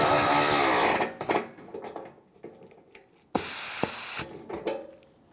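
A power tool tightens a lower rear bumper bolt on a 1996-2002 Toyota 4Runner, two loud close whirring bursts separated by clanks and quieter handling noise.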